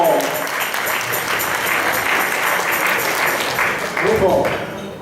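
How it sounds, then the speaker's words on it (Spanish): Crowd applause at a Christmas party of an Aragonese cultural centre in Puerto de Sagunto, a steady, loud clapping that fills the room for several seconds, with voices murmuring underneath and a swell near the end. "Gran aplauso para Rogelio."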